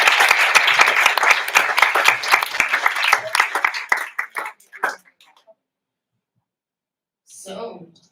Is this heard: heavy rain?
no